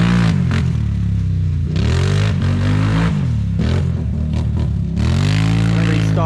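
A Can-Am Renegade 850 ATV engine runs close by with repeated rising and falling revs, a throaty roar swelling and easing in several cycles, with some rattle and clatter underneath.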